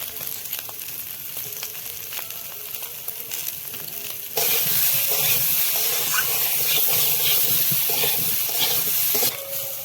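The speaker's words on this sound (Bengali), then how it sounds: "বন্ধুরা আলুটা ভাজা হয়ে গেছে, যে লাল লাল করে ভেজে নিয়েছি।" Potatoes fry in a pan with cumin, ginger paste and turmeric, giving a steady close sizzle that suddenly swells into a loud, hissing, bubbling roar about halfway through and holds there to the end, with no talking.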